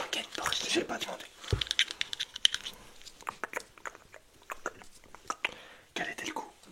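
Dog treat kibble is crunched and chewed close to the microphone, with irregular bursts of crisp bites and munching, mixed with soft whispering and quiet talk.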